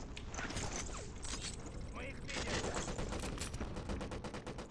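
Uzi submachine gun firing in the shooter game Black, with rapid automatic bursts crackling in quick succession amid loud, busy game noise and someone talking over the action.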